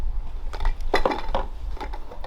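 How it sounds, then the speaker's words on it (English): Small integrated camping stove pots clink and knock together, a cluster of light metallic taps and rattles close up over a couple of seconds. "you can use these small stove systems, which come with little pots"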